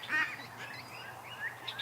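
A goose and gosling in a barnyard call with nasal honks and squeaky cries, a louder call near the start and softer scattered peeps after, over a low outdoor background.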